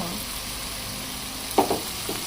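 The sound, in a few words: ginger garlic paste frying in hot oil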